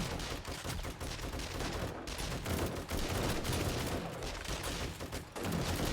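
Heavy gun fire in the video game 7 Days to Die, a dense, continuous roar of rapid shots and explosions during a base defence, loud and sustained with only brief dips.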